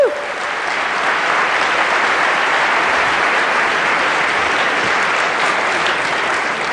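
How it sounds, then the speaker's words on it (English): A live audience breaks into sustained applause, a thick, even wash of many hands clapping at once that stays loud and steady from start to finish. "Give these folks a round of applause."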